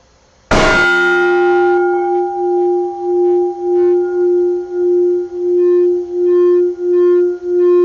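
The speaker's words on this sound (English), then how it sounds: "Singing bowl" A singing bowl is struck once, then rings with a long, steady, pure tone that pulses gently in a slow wobbling swell as it sustains.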